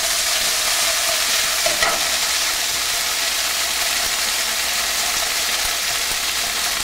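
Swordfish pieces sizzle steadily in a hot pan on a stovetop while being stirred, a loud continuous hiss of frying with faint scraping under it, and no talking.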